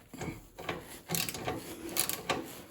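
An adjustable wrench turns a small nut on a snowblower bolt during an impeller roll-pin repair, giving a close series of short metallic clicks and scrapes in uneven bursts, with no talking.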